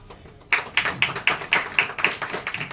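A group claps in a steady, unified rhythm at a retirement ceremony: about nine sharp, evenly spaced claps starting abruptly after a short quiet lead-in, fairly close and with no talking.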